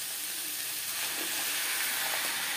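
Onions fry in a pan with spices, a dense, even sizzle and hiss that holds steady throughout, close and moderately loud, with no voices.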